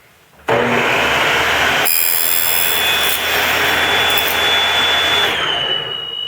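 Power saw ripping division plate material against a fence: a sudden loud, steady whining roar begins early, holds with a high tonal scream, then eases toward the end, close and continuous without speech.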